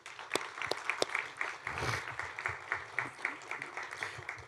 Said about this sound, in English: let's give the friends and family and supporters a big round of applause